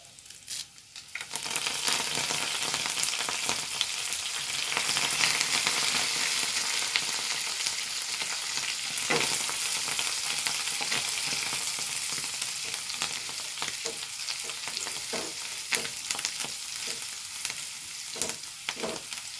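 Curry leaves and ginger frying in a pan while being stirred, a loud dense sizzle that holds for nearly the whole stretch, with occasional scraping stirs near the end and no talking.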